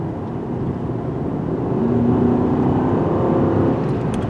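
The engine of a Mercedes GLS 580 accelerates with a steady, moderate drone and tire and road rumble, swelling gradually and staying continuous for several seconds.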